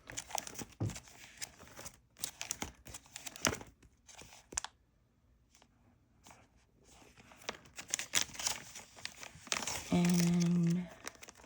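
Sticker sheets for a paper planner being handled, with crinkling and rustling in bursts, one long steady tone near the end.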